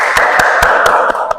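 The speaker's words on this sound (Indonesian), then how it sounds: "Baik, berikan tepuk tangan." A classroom of students applauds on cue from their teacher, a broad wash of clapping with a few sharper, regular claps standing out over about a second and a half.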